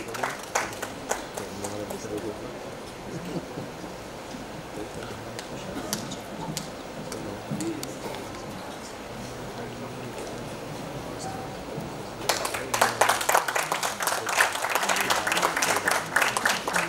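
Audience clapping at a birthday commemoration event, faint and distant under a speaking voice at first, then swelling into louder, sharper applause for the last few seconds.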